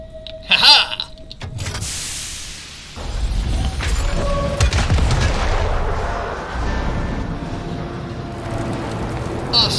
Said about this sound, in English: That had to be a ridiculously high pressure shutter.